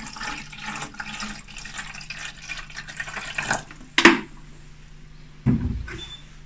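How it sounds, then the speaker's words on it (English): Distilled water pours into the water tank of a Flight Dental ClaveB Class B autoclave steam sterilizer, a steady trickling fill with a couple of sharper knocks or splashes near the end. "Then fill the distilled water tank with maybe a couple of inches of water."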